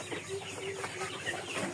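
Several chickens in a bamboo-fenced, netted pen give faint, scattered clucks at a distance over a hissy background.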